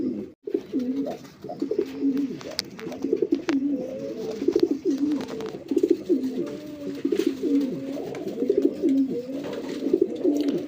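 Racer pigeons at a pigeon market coo continuously in overlapping, rhythmic throaty rolls, several birds close by, with faint background bustle.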